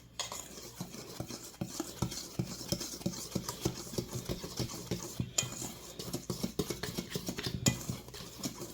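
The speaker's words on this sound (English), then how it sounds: "we're going to whisk the dry ingredients." A whisk clatters briskly against a bowl, mixing dry ingredients for banana pumpkin bread. The scraping taps come in a rapid, irregular rhythm, up close and with no speech.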